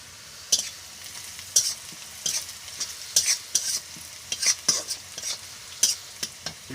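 Onions and chili frying in a home kitchen pan, with soft sizzling under repeated stirring scrapes that come in irregular bursts, fairly faint and with no talk.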